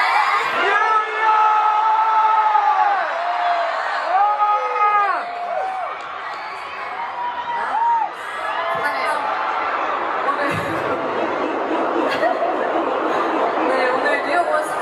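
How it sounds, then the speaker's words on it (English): A packed arena crowd at a concert in New York screams, whoops and cheers in waves, a dense roar of many voices with rising shouts that rises and falls. "You guys can scream New York."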